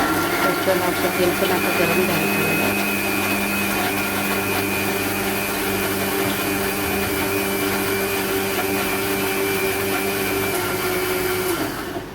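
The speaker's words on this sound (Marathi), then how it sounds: "मी आता हे मिक्सरला काढून घेते आपला हिरवा मसाला आहे हा" An electric mixer grinder whirs steadily while grinding green masala in a kitchen. The motor whine is loud and continuous for about twelve seconds, then cuts off.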